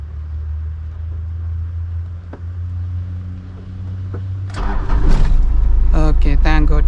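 An old Toyota Townace van's engine starts inside the cabin: a steady low rumble gives way to a cranking burst and the engine catching into a loud, rough idle, with someone talking over it.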